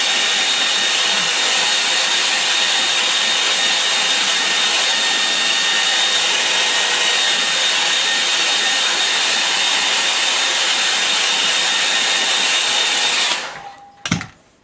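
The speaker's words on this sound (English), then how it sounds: "I'm going to get the hairdryer on this now" A hair dryer blows steadily on a watercolour painting of pines by a rocky stream, a loud, even whoosh with a faint high whine that runs for about thirteen seconds before cutting off abruptly.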